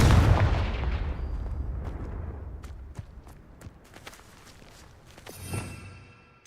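A Confringo fire spell in the Hogwarts Legacy video game goes off in a loud booming blast that rumbles and fades, followed by scattered sharp impacts, footsteps and a second smaller burst.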